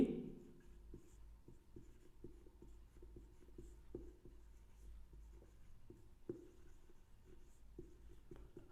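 A pen writing out a physics equation for mechanical energy in a quiet room: faint, irregular scratches and taps, close by, with no one talking.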